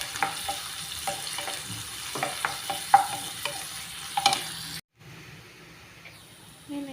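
Onions and green chillies sizzle in hot oil for a mushroom masala curry, with a spoon clattering as they are stirred. The frying stays close and moderate, then cuts to a quieter, softer sizzle.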